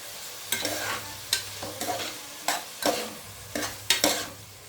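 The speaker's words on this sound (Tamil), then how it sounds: "இதையும் நல்லா நான் மிக்ஸ் பண்ணிக்கலாம். அப்போ தக்காளி நல்லா வதங்கும்" Tomatoes and onions with salt being stirred in a pan for chicken biryani, a spoon scraping in about six distinct strokes over a soft sizzle, close and clear with no talking.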